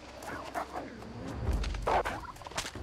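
A wild turkey in the video game New World gobbles in short, fairly faint bursts over a low game background, with a louder call near the middle.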